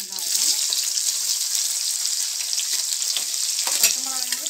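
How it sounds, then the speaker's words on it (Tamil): Chopped onion, tomato and green chili sizzle and fry steadily in a hot pan, a continuous bright hiss with occasional scraping stirs, close and fairly loud, with no talking. "இப்போ நறுக்கி வச்சுருக்க வெங்காயம், தக்காளி, பச்சை மிளகாலாம் போட்டு வதக்க போகிறேன்."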